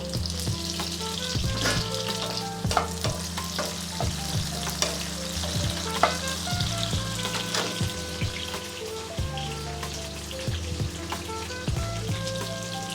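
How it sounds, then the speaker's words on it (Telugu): Curry leaves sizzling in hot oil with browned onions for a fish pulusu, a dense crackling fry up close, steady throughout, with occasional utensil taps and a low steady hum beneath, no voices. "ఇప్పుడు 2 రెమ్మలు కరివేపాకు వేస్తున్నాను."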